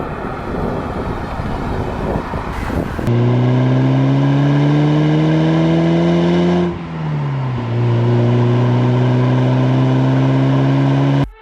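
A 1987 Porsche 944S with a naturally aspirated 2.5-liter inline-4, twin-cam, 16-valve engine, driven in a racing game: loud, close engine drone that climbs steadily, dips briefly at a gear change, then climbs again without pause.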